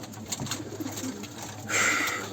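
Pigeons coo in a loft, a soft rolling murmur close by, with a brief rustle or flutter near the end.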